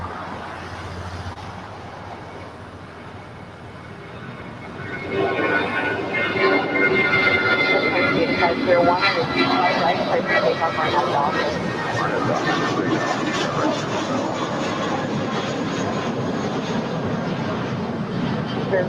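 A Spirit Airlines A320 rolls down runway 25 right at LAX. After a quiet start, a broad jet roar swells sharply and holds steady and loud to the end.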